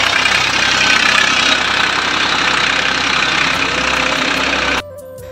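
A tractor engine runs steadily during field ploughing, a loud, dense mid-range drone with a constant rough rhythm close by, then dropping suddenly to a quieter hum near the end.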